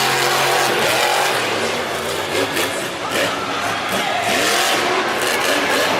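The Earthshaker monster truck's engine roars and revs at a Monster Jam arena show in Nashville, loud and sustained with rising and falling pitch sweeps over crowd noise, an announcer's voice faintly audible underneath.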